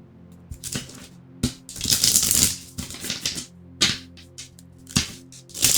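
Tarot cards riffle and slap together in a run of crisp, rapid clicking bursts, close and fairly loud, with brief pauses between shuffles.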